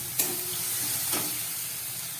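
Ground garlic paste dropped into frying onion paste in a pan for a spicy pabda fish and eggplant curry, giving a continuous close sizzle with two brief stirring scrapes.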